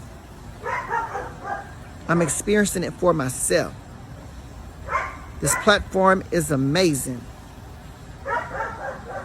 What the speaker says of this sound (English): That's my neighbor's dog barking